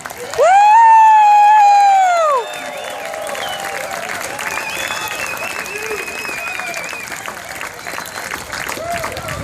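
A 100th-anniversary gathering breaks into crowd applause and cheering after a loud whistle-like tone at the start, a steady, moderately loud clapping wash with occasional voices rising over it.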